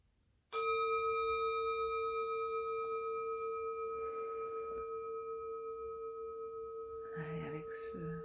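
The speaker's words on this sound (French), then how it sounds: "Et avec ce gong de fin" A meditation gong rings once with a sharp strike, then a long, steady, sustained tone that slowly fades, with faint voice sounds and small noises near the end.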